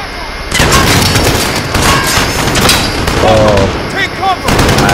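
Loud, sustained machine gun fire in Modern Warfare (2019), with continuous bursts and booms filling the scene almost without pause and faint game chatter underneath.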